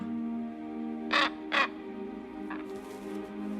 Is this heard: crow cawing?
yes